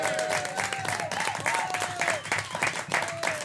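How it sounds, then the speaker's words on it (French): A studio audience on a French radio comedy show featuring the Chevaliers du Fiel applauds loudly and steadily, with crowd noise and a voice or whistle-like tones rising over the clapping. "je vous demande de cesser vos applaudissements"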